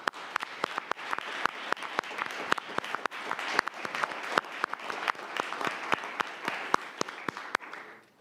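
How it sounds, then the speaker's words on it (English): Audience applause at a city commission meeting fills the room with a steady wash of clapping, punctuated by sharp close individual claps and a few soft voices underneath, continuing for several seconds before tapering off. "just give him a round of applause"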